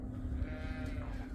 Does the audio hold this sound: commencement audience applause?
no